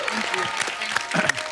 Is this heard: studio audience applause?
yes